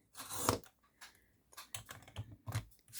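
Paper is sliced with a blade on a rotating paper-cutting platform, producing a series of short crisp cutting and scraping strokes, quiet and close, in an irregular rhythm.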